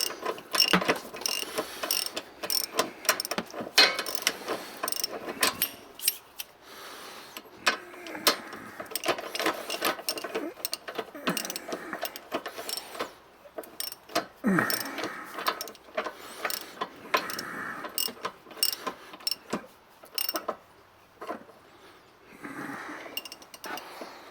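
Ratchet socket wrench clicking steadily while removing bolts during an air bag replacement, with rapid bursts of ratcheting strokes, close and fairly loud, with brief pauses and no talk.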